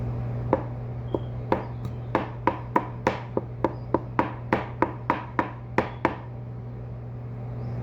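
A knife chops hard-boiled egg yolk on a cutting board in a steady run of about fifteen crisp, close taps, over a low constant hum.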